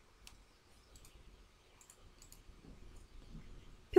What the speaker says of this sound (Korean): 표 안에서 마우스 오른쪽 단추 눌러서